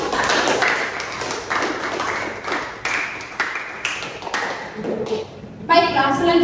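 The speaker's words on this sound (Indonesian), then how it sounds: "Berikan tepuk tangan yang meriah kepada tim panel 3 dan tim panel" Applause for two student panel teams at a law class project presentation, a crowd of hands clapping steadily and densely for several seconds, brightening near the end.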